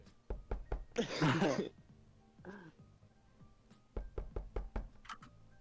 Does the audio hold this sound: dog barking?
no